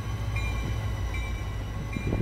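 A Roblox train on a rail route brakes to an emergency stop, a steady low rumble of rolling cars with a faint recurring high tone, no talk.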